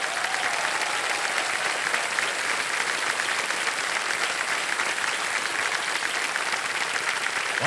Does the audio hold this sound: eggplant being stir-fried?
no